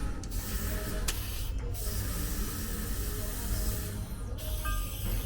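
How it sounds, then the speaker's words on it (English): Compressed nitrogen hisses and rushes loudly and steadily as it blows out a clogged HVAC condensate line, a continuous spray-like whoosh with a few brief clicks and pulses in the flow. "At least get some nitrogen and blow it all out."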